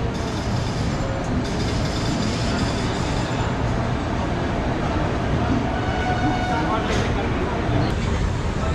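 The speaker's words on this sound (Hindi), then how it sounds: "तो चलिए आपको मैं दिखाता हूँ इस ट्रेन का यहाँ से डिपार्चर।" Continuous loud rumble of the Vikramashila Express departing Anand Vihar Terminal, a steady rolling clatter of railway carriages close by with occasional higher squeals, and a voice speaking over it.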